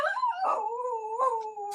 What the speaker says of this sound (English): Oh, is that a doggy?